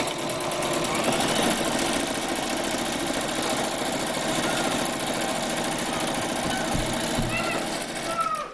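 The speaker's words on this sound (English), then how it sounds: "you'll just be able to sew right up to the thick point" A sewing machine stitches a fabric pencil pouch up to a thick seam point, a steady continuous mechanical whir running loud and near through the whole span with a brief change near the end.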